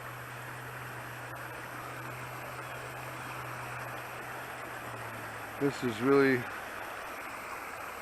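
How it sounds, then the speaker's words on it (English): Small waterfall of lake water from Serpent Lake pouring out of a culvert onto rocks, a steady broadband rushing hiss throughout, with someone briefly speaking near the end. "And now we got a bit of a waterfall."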